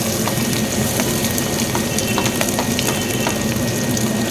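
Chopped onions hit hot oil already tempered with whole spices, giving a loud, dense and continuous crackling sizzle with scattered pops, close by and without any talk.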